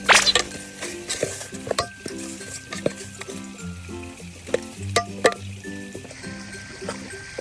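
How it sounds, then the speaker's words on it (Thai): Dried chilli and curry paste dry-roast in a pan for a northern Thai fish curry, with continual stirring, scraping and sharp clinks of a utensil against the metal. The sound is close and busy, with no speech. "ตอนนี้จะคั่วแปะกับ พริกครับ ประมาณสองถึงสามนาที"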